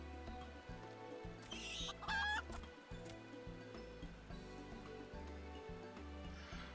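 Chickens in Final Fantasy XIV Online cluck in short, repeated bursts over a game music loop, with one sharper squawk standing out, moderately near.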